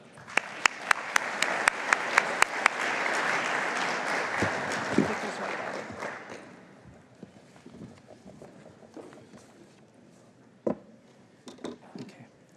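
Audience applause welcomes a speaker onto the stage at the Texas Groundwater Summit, with a dense, steady crowd clapping for about six seconds that then thins into scattered claps and faint room noise.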